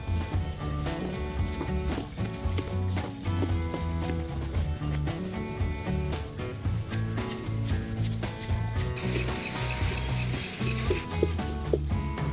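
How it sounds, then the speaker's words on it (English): Rice mixture being stirred by hand for traditional puffed rice (murmura), a steady scraping and rustling of grains that continues without pause, fairly loud and close. "The mixture is continuously stirred to ensure uniform moisture distribution throughout the rice."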